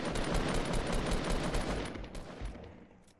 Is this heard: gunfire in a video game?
yes